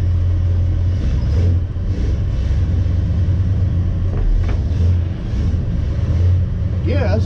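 A 1968 Ford F100 pickup truck rumbles along in a steady, loud low engine drone with road noise from inside the cab, the pitch dipping briefly as it shifts, and a voice talking over it near the end.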